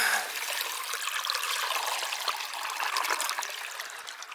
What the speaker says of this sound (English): I usually like the sound of water.